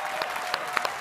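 Applause from a crowd at a race awards stage, steady clapping with a few sharper individual claps standing out, no voices on top.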